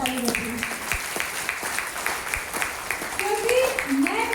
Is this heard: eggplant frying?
no